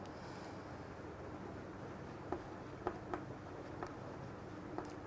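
Pen or pencil writing out a maths solution on paper, a steady faint scratching under a low background hiss with several small taps as strokes and marks are made.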